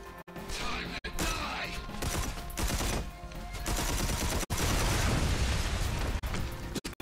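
Explosions and gunfire in the video game Red Faction Armageddon, a dense barrage of loud blasts and rapid shots that barely lets up, with a few sharp cut-offs between bursts.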